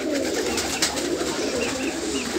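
Teddy and Rampuri pigeons coo in a breeding setup, soft repeated throaty calls close by over a constant background hum, with no voices.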